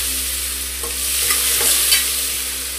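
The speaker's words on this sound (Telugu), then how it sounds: "ఇప్పుడు ఇందులోకి ఆనియన్స్ ఈ విధంగా సన్నంగా ఇలా పొడవుగా కట్ చేసుకొని ఒక ఉల్లిపాయ సరిపోతుందండి పెద్ద సైజు, నేను ఇందులోకి వేసేస్తున్నాను" Thinly sliced large onion frying in oil in a pan for gongura biryani, a steady sizzle with a few scraping stirs of a spoon, close and loud with no talking.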